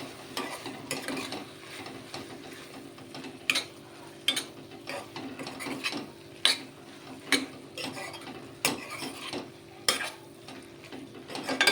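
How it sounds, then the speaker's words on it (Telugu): Chili powder stirred into a cucumber and raw prawn curry in oil: irregular sharp scraping clicks of a spoon against the pan over a soft, constant sizzle, close and with no talk. "కారం వేసి కలుపుదామండి నీట్గా"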